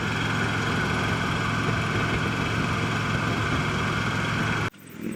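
Harley-Davidson Electra Glide Ultra Limited motorcycle engine running hard under acceleration, a loud continuous low rumble with steady drone that cuts off abruptly near the end.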